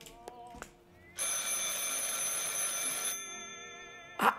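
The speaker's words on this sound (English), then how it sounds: "Where the phone at?" A telephone rings loudly in the video game Martha Is Dead, one sustained electronic ring lasting about two seconds, set between brief clicks and a short sharp sound at the end.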